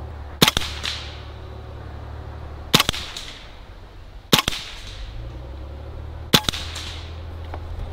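A Hatsan Blitz .30 caliber air rifle fires pellets in four sharp, separate cracks spaced a couple of seconds apart, crisp and close over a quiet background.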